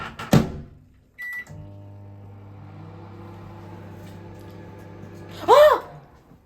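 A microwave oven heating an omelette under a cover: a door thump and a beep, then a steady low hum with a fan whir running for several seconds, and a voice breaking in at the end.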